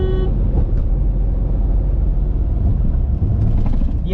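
Dense city road traffic in Gurgaon, with cars like Audi, BMW and Mercedes, gives a constant loud engine and tire rumble, with a brief horn toot near the start and more faint honks near the end.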